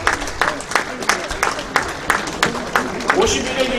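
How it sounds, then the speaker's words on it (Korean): Applause welcoming newly introduced officers at a national elders' association general assembly held in a church, sharp claps rising and falling in rhythmic bursts while a voice speaks over them. "여러분들 박수로 받아주시면 고맙겠습니다"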